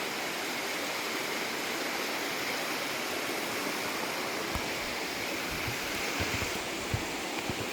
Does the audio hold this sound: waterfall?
yes